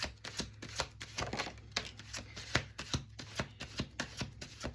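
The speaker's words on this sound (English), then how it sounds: "Let's do last shuffle, last shuffle." A tarot card deck being shuffled by hand, a steady run of soft riffling and slapping card sounds, close and fairly quiet, with no voices.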